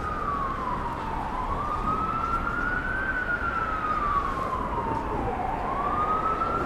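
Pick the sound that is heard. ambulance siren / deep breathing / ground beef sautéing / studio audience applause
ambulance siren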